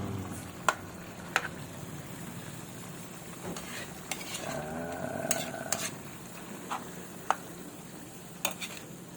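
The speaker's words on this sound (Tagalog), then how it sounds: "Haluin natin para yung lasa ay mapunta sa pusit" Squid adobo being stirred in a pan: a spoon scrapes and clinks against the metal in scattered sharp taps over a steady low sizzle, with a brief louder rustle of stirring in the middle.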